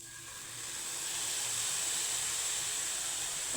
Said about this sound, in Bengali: এখানে আমি ঘিয়ে একটু হালকা করে ভেজে নেব